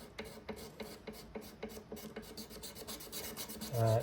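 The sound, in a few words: razor blade scraping old gunk off vintage Kay guitar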